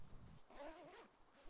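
A backpack zipper in a video game is pulled open with a short, quiet rasping zip and faint background noise.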